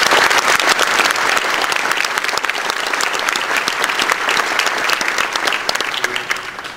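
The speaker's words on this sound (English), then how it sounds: "So please give them a warm round of applause and welcome them to the stage." A large conference audience at OSCON 2008 applauds steadily, dense clapping filling the space and tapering slightly toward the end.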